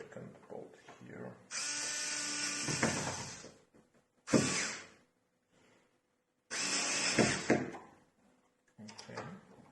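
A Xiaomi Mijia electric screwdriver drives a bolt into a door lock, giving a few short whirring motor bursts separated by pauses, close and moderately loud.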